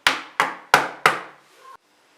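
Cake pan filled with batter tapped against a surface to settle it, four sharp knocks in quick succession followed by a fainter fifth, close and clear with no talking.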